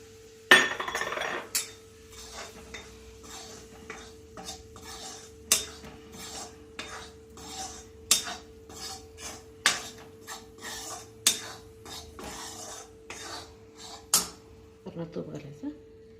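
Finger millet flour roasts in a pan while a spoon repeatedly scrapes and clinks against the metal in an irregular stirring rhythm, with a person speaking throughout.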